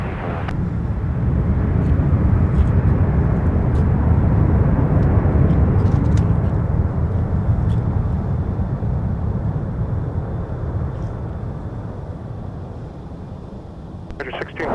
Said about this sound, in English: Sun Country 1638 arriving from Seattle